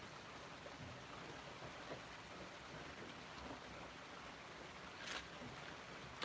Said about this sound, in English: it's raining pretty good out there right now